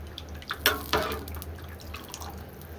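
Liquid poured into a pot while cooking a tamarind-based dish: a faint, brief splash and trickle near the start, then a quiet kitchen with no talk.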